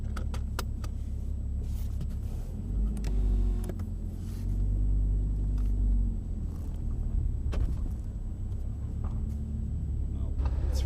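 A Lamborghini Huracan Spyder's 5.2-litre, 610-horsepower V10 idles with a deep, steady rumble. The engine stays low and constant, and people talk over it.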